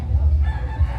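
Rooster crowing once nearby at a rural fiesta in Sitio Patag, a brief loud call with a couple of pulses, clucking mixed in.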